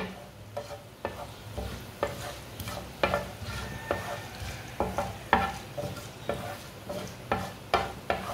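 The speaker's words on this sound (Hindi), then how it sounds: "साबुत धनिया को ना थोड़ा सा रोस्ट होने देंगे।" Whole coriander seeds roasting in oil, a soft sizzle punctuated by a regular series of spoon-on-pan stirring scrapes roughly every half second, fairly quiet and without speech.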